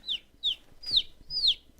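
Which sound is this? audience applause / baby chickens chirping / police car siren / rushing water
baby chickens chirping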